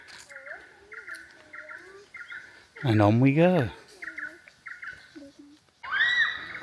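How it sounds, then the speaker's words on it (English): Gibbons and birds call in the jungle of Cat Tien National Park, with warbling bird notes throughout and a loud, rising whooping call in the middle, alongside a brief passing voice. "So you can hear Gibbon singing in the background. Birds singing along."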